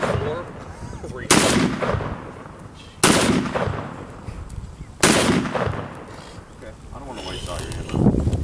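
Three loud, close gunshots from a gun fired outdoors at a shootout event, evenly spaced about two seconds apart, each with a long rumbling tail over wind noise.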